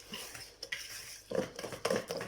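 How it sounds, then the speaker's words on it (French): Chocolate cake batter mixed in a bowl, with a utensil clinking and scraping against the sides in a few irregular bursts, fairly close and without talk. "Alors, on mélange bien."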